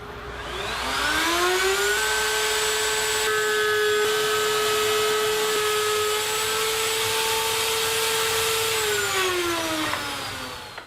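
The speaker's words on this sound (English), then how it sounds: "I took the boards to the router table and put a nice 1/4 inch chamfer all along the top edges" A router on a router table whines up to a steady high-pitched pitch, holds for several seconds while cutting a 1/4-inch chamfer along wooden board edges, then winds down, loud and close with no talking.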